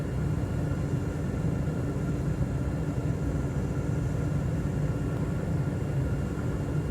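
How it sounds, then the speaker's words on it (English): A light aircraft's engine drones with the throttle pulled back on a descent toward landing, a constant close hum with a steady rumble and no change in level. "Pull out the throttle the rest of the way."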